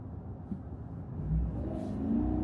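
GMC Sierra pickup truck accelerating from 60 to 100 km/h, heard from inside the cab as a soft, low engine rumble that swells slightly, with no talk over it.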